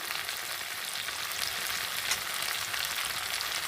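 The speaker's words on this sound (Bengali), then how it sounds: "বেশ কিছুক্ষণ সময় ধরে আমি এটাকে ভাজি করেছি" Malabar spinach and fish head fry steadily in hot oil, giving a close, continuous sizzle with crackling that stays even throughout, with no voices.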